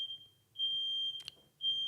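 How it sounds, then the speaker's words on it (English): A high-pitched smoke alarm beeps in long steady tones, stopping and restarting, with a brief clatter in between. "Is that the fire alarm?"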